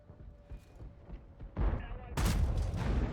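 Gunfire in a video game, where credits are ground out in a ram-heavy fight, builds from scattered low thumps into dense, loud bursts of rapid shots and booms that dominate the last half.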